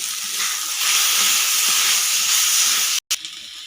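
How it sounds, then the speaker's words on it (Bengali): Chili, coriander and turmeric powder are stirred together in a hot pan for a Bengali vegetarian khesari dal bora curry. A steady, bright sizzle hisses without a break and drops out briefly near the end. "তো এটাকে আমি ভালোভাবে মিশিয়ে নেব"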